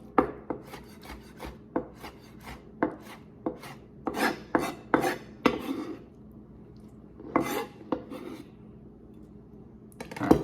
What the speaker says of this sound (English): I'm gonna have to give it a quick pull through my sharpener.